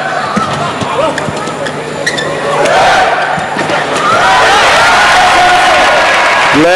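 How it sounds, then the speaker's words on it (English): Crowd at a 2006 World Championship badminton mixed doubles match breaks into scattered applause that swells and holds toward the end, with a commentator talking throughout. "And the English getting some sympathetic applause here"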